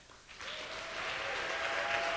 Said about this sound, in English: Can everyone join me in giving a big round of applause